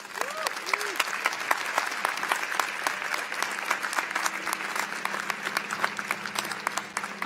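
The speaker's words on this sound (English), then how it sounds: "Will you please welcome me in a round of applause for Provost Mark Richards." A crowd applauds Provost Mark Richards at a university commencement ceremony, dense sustained clapping with sharp individual claps standing out and a steady hum underneath.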